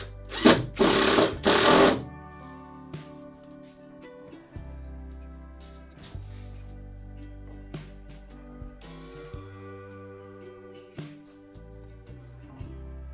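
A power drill drives hefty number 12 screws into a wooden Catalina Wherry boat, two loud bursts of drilling near the start followed by quieter whirring and handling noise, close by with no talking.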